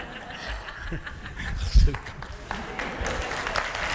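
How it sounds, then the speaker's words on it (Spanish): A live audience claps at a comedy and storytelling show, the applause swelling briefly with scattered chuckles over a steady crowd murmur. "Mira, ahora aplaudís, ¿no?"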